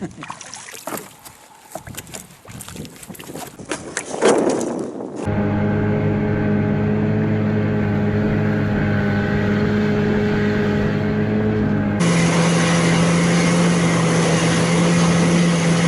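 A motorboat runs at full throttle across deep water on a fishing trip, a loud, steady engine drone that stays close and shifts slightly in pitch partway through, after a few seconds of rough, splashy noise.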